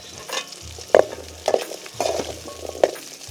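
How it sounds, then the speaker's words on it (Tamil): Onions sauté in oil in a pan for Tamil Nadu style chicken kulambu, with a continuous sizzle broken by a few sharp metal clinks and scrapes of stirring, no voices. "வெங்காய செலவு எண்ணெய் விட்டு நல்லா வதக்கிக்கலாங்கண்ணே"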